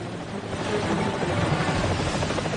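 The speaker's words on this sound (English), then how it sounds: "An emergency helicopter arrives and hovers above" Steady, loud helicopter rotor roar holding close overhead, a continuous churning drone with no talk.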